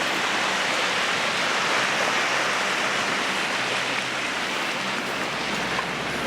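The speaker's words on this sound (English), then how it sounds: "Pacific Ocean." Pacific Ocean waves near Cape Disappointment, a steady, dense rushing roar of surf with no distinct breaks, fairly loud and continuous, with no voices.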